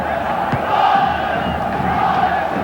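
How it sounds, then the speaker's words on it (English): Big stadium crowd at a 1996 Paris versus Leeds rugby league match, a steady loud roar of many voices with swelling cheers, heard alone without commentary. "Big crowd here at the stadium."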